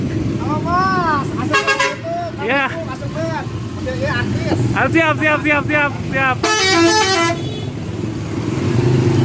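A Laju Utama intercity bus on the Sukabumi–Bekasi route sounds its melodic horn in repeated toots near the Cigombong toll exit, engine and road noise underneath, with a short spoken word and other passing traffic.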